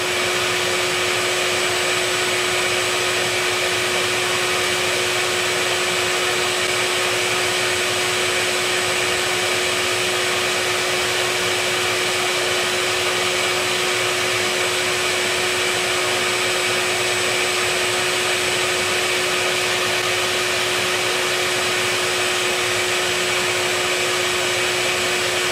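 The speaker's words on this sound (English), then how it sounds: "make sure they're not getting blown out the back of the vacuum suck" A vacuum cleaner runs steadily and loudly throughout, sucking wasps out of a hidden nest, a constant drone with a sustained whine and no talk.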